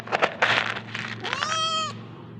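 A house cat gives one clear, rising meow near the end, after a few soft rustles and knocks, close but fairly quiet over a faint low hum.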